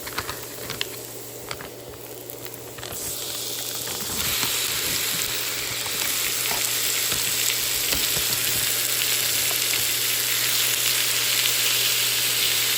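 Shrimp sizzle loudly in a hot pan, a dense, steady frying hiss that swells after a few seconds and carries on close up, with a few light clatters and no talk.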